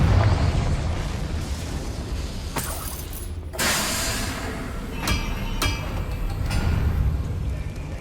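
Confringo fire spell blasts in Hogwarts Legacy, with several loud, bursting explosions and crackling impacts, the biggest around the middle, over a continuous rumbling game background.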